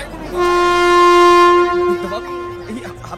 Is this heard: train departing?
yes